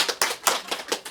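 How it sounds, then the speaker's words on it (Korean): Handful of people clapping after a teacher's invitation, with sparse, uneven claps in several loose bursts, moderately near and without voices. "박수 한번 칠까요?"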